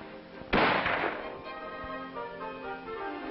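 A single sharp M14 rifle shot on a 25-meter firing range, a loud close crack followed by a short decaying echo, with a fainter thump a moment later and no speech.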